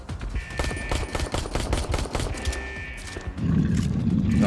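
Rapid automatic gunfire in the VR dinosaur game ARK Park, a fast steady stream of close shots lasting several seconds, ending in a heavier rumbling roar.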